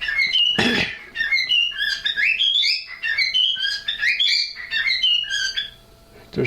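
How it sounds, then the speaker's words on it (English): A pet bird squawks and whistles loudly and continuously at close range, in a run of sharp, chattering calls with brief gaps, while a faint voice speaks underneath at moments. "Shut up, bird."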